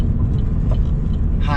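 Steady road roar and engine rumble inside a vehicle on a three-lane highway as another car draws alongside on the left to pass, loud and continuous throughout.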